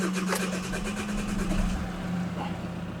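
A diesel car engine idles after an oil and diesel filter change, giving a close, steady low rumble with a rhythmic clatter over about three seconds.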